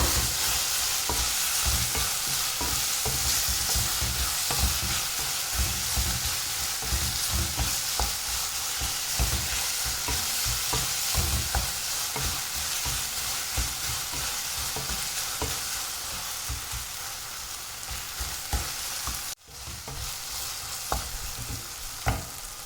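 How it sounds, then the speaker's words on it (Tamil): Tomatoes and onions sauté in a pan with a constant loud sizzle and occasional stirring scrapes of a utensil, a veg mutton liver chops preparation with no talking over it. "இப்போ நம்ம தக்காளி வெங்காயம் நல்லா வதங்கிட்டுருக்கு"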